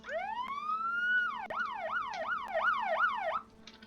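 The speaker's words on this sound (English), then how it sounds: "It has sirens!" Police siren on an off-road police car in the game Arma 3: a long rising wail that flips into a fast repeating yelp, loud and up close with no talking over it.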